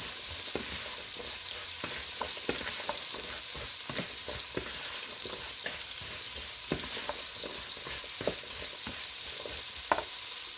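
A Salisbury steak patty fries in a pan with a steady, close sizzle, and repeated scrapes and clicks of stirring sound throughout, with no voices.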